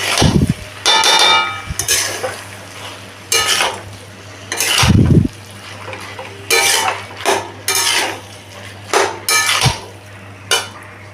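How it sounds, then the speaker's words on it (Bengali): Boiled, chopped banana flower is stir-fried for a vegetarian mochar ghonto, with a spatula scraping and clattering against the pan in a dozen or so uneven bursts, some with dull knocks, and no voices. "মোচাটা দিয়ে আমি ভালো করে কষিয়ে নেব।"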